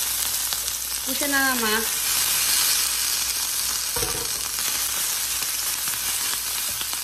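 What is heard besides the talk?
soy al pastor meat and tortillas heating in oil on a comal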